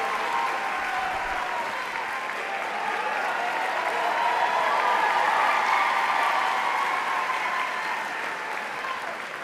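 A graduation audience at Percy Julian's 2023 ceremony applauds and cheers for Pierre, a dense, steady wash of clapping with crowd noise that swells midway and holds strong throughout.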